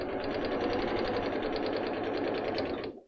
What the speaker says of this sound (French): on va coudre à 1 cm du bord